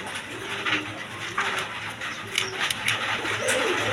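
A pair of Indian Bombai pigeons coos softly and steadily, up close, with faint patter and background noise around them and no talking.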